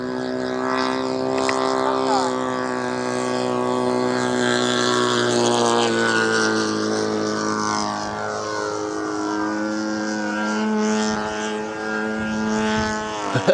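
A 77-inch-span RV-8 Old Crow RC model airplane with a 28 prop makes a flying pass, its propeller engine droning steadily and shifting pitch as it moves, with people talking throughout.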